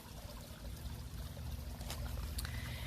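A koi pond's waterfall feature in a backyard water garden runs with a steady, soft pouring and trickling wash of water, faint and continuous with no voices.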